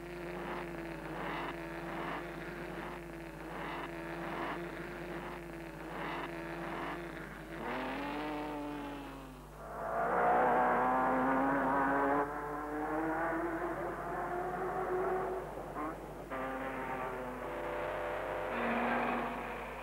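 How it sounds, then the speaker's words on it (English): Old Auto Union racing car engines rev and drone as the cars pull away at the start of a 200-mile handicap race, with rising whines and a steady mechanical hum, fairly distant and a little muffled. "The two auto unions are the last to leave in this handicap event."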